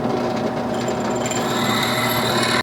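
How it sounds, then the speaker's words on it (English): A steady, close power-drill whir grinding through metal on a bicycle brake conversion, continuous and loud from start to finish. "Now I'll drill it out."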